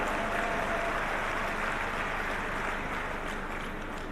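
Audience applause at a government inauguration and foundation stone ceremony for highway and rail overbridge projects, a steady dense wash of clapping holding at even loudness throughout.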